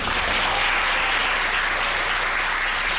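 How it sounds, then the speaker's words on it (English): An audience breaks into steady, dense applause for a children's TV host, a broad wash of many hands clapping alone and fairly loud for a few seconds. "Let's have a big round of applause for Tom Foote."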